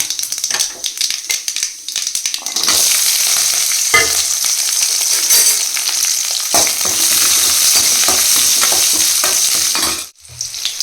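Mustard seeds, chana dal and urad dal frying in hot oil, a dense continuous sizzle with crackling pops and occasional stirring scrapes, loud and close with no talk.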